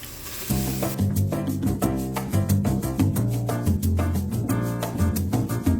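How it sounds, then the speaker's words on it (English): Cabbage and carrot hit a hot pot for Jamaican steamed cabbage, setting off a loud, steady sizzle with a few clinks of a stirring spoon and no talking. "So now I'm gonna go ahead and add my cabbage and the carrot to the pot."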